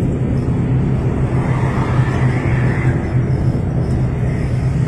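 A Cahaya Trans intercity bus on the Jakarta–Yogyakarta route strains uphill, its engine a steady, heavy low drone with road rumble filling the cabin throughout.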